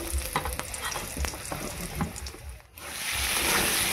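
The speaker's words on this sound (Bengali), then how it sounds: "এবারে আমি পটল আলুটা ভালো করে ভেজে নেব" Pointed gourd and potatoes fry in a pan, giving a steady oily sizzle with scattered crackles and stirring scrapes, then a brief dip and a louder, fuller hiss near the end.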